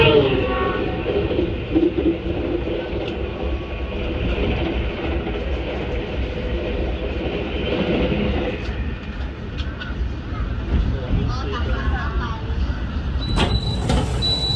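The KA Progo New Generation economy passenger train running and pulling into Haur Gelis station in Subang, West Java at night, a steady loud rumble of rail car and wheels with faint talk, and a brief high squeal near the end.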